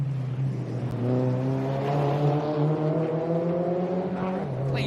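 A rally car passes through a corner on the Adelaide Hills stage, its engine holding a loud, steady drone close by, then the pitch drops at the end as it eases off past.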